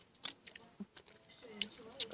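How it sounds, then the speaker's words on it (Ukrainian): Someone chews sticky Harry Potter jelly beans close to the mic, a quiet series of soft wet clicks and smacks spread unevenly over about two seconds. "То довго жуєш."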